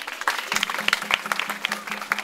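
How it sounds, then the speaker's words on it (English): A short burst of crowd applause at the inauguration of a girls' home, with steady hand claps from many people that continue briefly without pause. "Can you give her a clap?"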